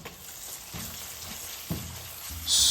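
Sliced shallots and coconut sautéing in oil in a pan, a steady close sizzle with soft scraping stirs, ending in a louder bright hiss.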